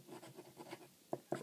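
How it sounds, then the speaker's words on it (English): A Cross Aventura fountain pen nib scratches across paper in a steady run of soft, close strokes, ending with two sharper, louder taps or scrapes near the finish. "you constantly hear the noise from the nib"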